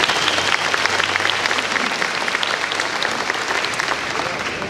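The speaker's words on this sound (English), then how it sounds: "Let's give them all a round of applause, please." Sustained applause from a luncheon audience at an agricultural awareness event, steady dense clapping at full volume throughout.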